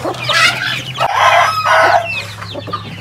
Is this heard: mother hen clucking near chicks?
yes